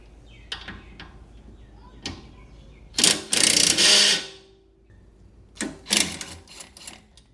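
Impact wrench on the end link bolt of an A90 Supra, firing a loud rattling burst of about a second, then two shorter bursts, with light clinks of tools around them.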